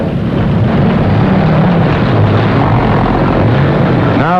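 A propeller plane's engine drones loud and steady at close range, a continuous broadband roar with a low throbbing hum and rushing wind, no voices over it.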